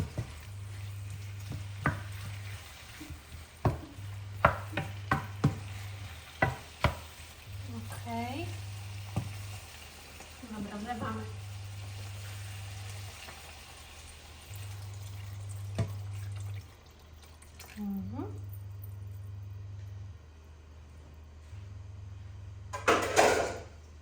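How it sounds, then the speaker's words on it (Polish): A sauce of cream, water and a stock cube simmers and sizzles in a frying pan. A steady bubbling hiss runs throughout, broken by utensil clicks, stirring scrapes and a low pulsing hum, with occasional brief talk. "Niech to się teraz troszeczkę zagotuje nam na tej patelni."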